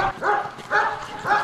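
A border guard service dog at a river frontier outpost gives three evenly spaced, fairly loud barks in a steady rhythm, with possible faint talk in the background.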